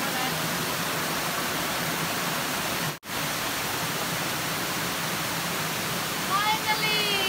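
A waterfall roars with a steady, broad rush of falling water, continuous and fairly close, with a brief dropout partway through.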